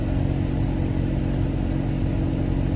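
A new all-aluminum motor fitted with really big mufflers running at a steady idle, a loud, even low rumble close by with no change in pitch and nobody talking.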